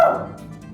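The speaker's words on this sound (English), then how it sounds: "my dog" A dog gives a single short bark close by at the start, fading off into quiet room noise in a home kitchen.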